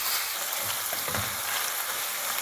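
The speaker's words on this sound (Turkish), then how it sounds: "kıymamı tavama aldım, ateşe koydum" Ground meat sizzles and crackles steadily in a hot pan with oil, a dense, bright frying hiss with a few soft stirring scrapes.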